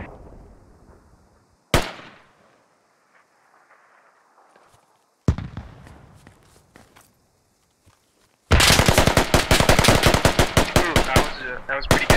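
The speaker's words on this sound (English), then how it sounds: "That was a pretty good range shot." Gunfire in the military shooter game Squad: a few isolated sharp shots, followed by a loud sustained burst of rapid automatic fire near the end.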